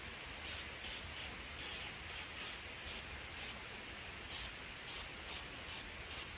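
Paint remover is sprayed onto painted lettering in bursts of short, rhythmic hissing pumps over a constant background hiss, close and fairly quiet.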